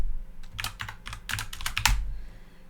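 Keys clatter on a computer keyboard as a number is typed in during a programming lecture, several quick clustered taps at close range with no speech over them.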